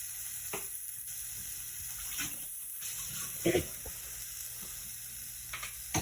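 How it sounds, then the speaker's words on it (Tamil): Already-fried chicken sizzles in a hot pan, giving a steady close hiss broken by occasional louder crackles and pops. "ஏற்கனவே ஃப்ரை பண்ணி வச்ச ஃப்ரைட் சிக்கன் எடுத்து பொரிச்சு வச்ச சிக்கன் கொஞ்சம் எடுத்து போடுவோம்"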